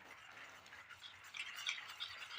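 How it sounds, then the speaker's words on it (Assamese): Pitha batter being stirred with milk in a bowl, a soft, steady scraping swish of a spoon through thick wet mixture, close and fairly quiet, continuous with slightly busier strokes toward the end. "গোটেইখিনি মই ভালদৰে মিলাই ল'লোঁ।"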